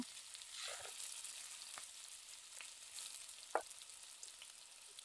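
Chopped tomatoes dropped into hot oil with browned, fried garlic, giving a soft steady sizzle with faint crackles and a brief stir or clink, heard fairly quietly with no talking.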